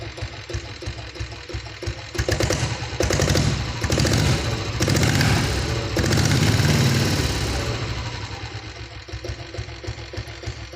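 A Royal Enfield diesel Bullet motorcycle engine thumps with a steady, throbbing beat, swelling louder in the middle as it is revved and then settling back to a rhythmic idle, heard close and alone.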